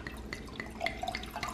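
A liquid pour into a stemmed wine glass: fine, close drips and splashes trickle steadily for over a second, fairly quiet and alone.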